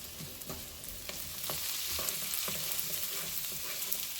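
Potatoes saute in a pan on a high burner for Mexican-style chorizo and potatoes, giving a steady, close, bright sizzle with occasional soft stirring knocks, and no talking.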